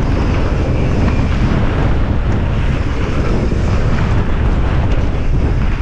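Strong wind roars across the microphone on a mountain bike trail at Glentress in Scotland, a loud, steady, buffeting rush that fills the whole stretch without letup.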